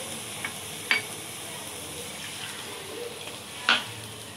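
Water trickles and sizzles in a pan of sugar while jackfruit halwa is being made, a soft, steady wash of liquid noise with a few sharp clinks of a utensil against the pan.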